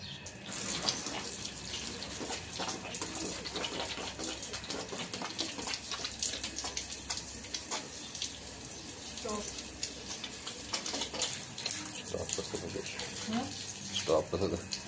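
Water running steadily while a balcony is washed, a continuous splashing hiss with intermittent clatter, and a person speaking over it now and then.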